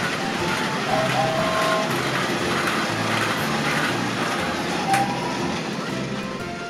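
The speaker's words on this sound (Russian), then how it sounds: "Поезд, который ездит сам." A self-propelled toy train runs along its track with a steady, continuous mechanical whirr and rattle, close and fairly loud with no talking.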